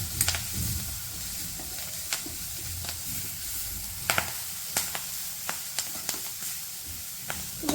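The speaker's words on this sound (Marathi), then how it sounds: "हिला छान तेलात परतून घ्यायचं आहे. हे परतताना गॅस आपल्याला कमी करायचा आहे." Finely chopped chivai greens sauté in oil over low heat, a constant hissing sizzle broken by regular small crackling pops and stirring taps.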